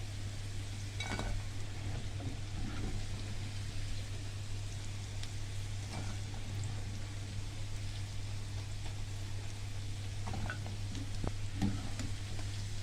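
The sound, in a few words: potatoes frying in oil, then kofta put in the pan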